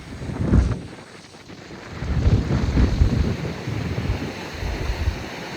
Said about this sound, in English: I'm hoping that my wind cancellation feature works because it's super duper windy.